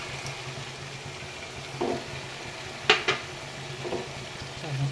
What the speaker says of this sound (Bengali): এইবারে একটু নাড়িয়ে নেব আর ফ্লেমটা লো করে দেবো